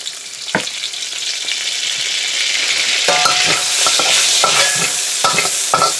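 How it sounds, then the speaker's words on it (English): Garlic sautés in a pan with a bright, loud sizzle, cut by several sharp scrapes and clatters of stirring in the second half; no voices. "Put your garlic in there. Saute that for just a couple of seconds."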